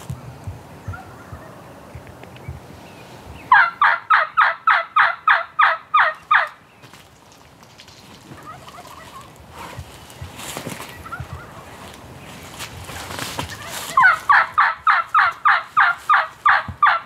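Merriam's wild turkey gobbling on public land, two loud rapid bursts of throaty rattling gobbles, each about ten pulses long, separated by quieter rustling and outdoor ambience.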